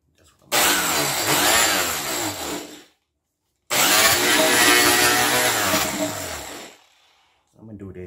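A buffing wheel polishes an aluminum tea pot in two long, loud, bright whirring bursts separated by a short silence, with a third burst starting at the very end.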